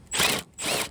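A hand ratchet loosening the ground wire bolt on a car, two short close bursts of quick clicking separated by a brief pause.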